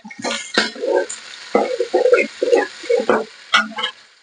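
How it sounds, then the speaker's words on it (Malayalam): Onions being stirred as they fry in a pan for beef curry, a rhythmic run of close spoon scrapes and clacks over a light sizzle. "ഇനി നന്നായിട്ട് നമ്മൾ ഇളക്കി കൊടുക്കും."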